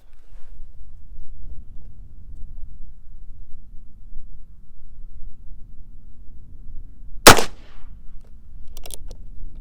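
A Heritage Rough Rider revolver fires a single .22 Magnum cartridge in one sharp, loud crack about two-thirds of the way through, followed by a faint metallic click, over a quiet outdoor background hum.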